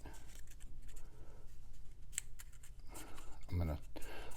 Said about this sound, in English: I'll trim off any excess we may have there.